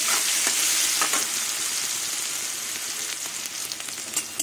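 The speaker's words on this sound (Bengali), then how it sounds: "এবার পেঁয়াজটা লাল লাল করে ভাজবো না, একটু নরম হবে সেরকম ভাজবো।" Onion fries in a pan until soft, giving a loud, close, steady sizzle of oil broken by occasional scraping stir strokes, gradually settling a little quieter, with no voices.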